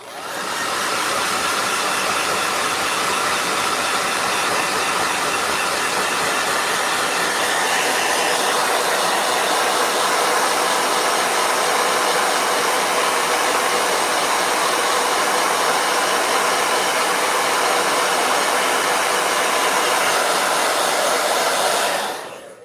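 A handheld blow dryer running steadily at full power, a loud, close, unbroken whoosh and whine that holds for the whole stretch before cutting off at the end.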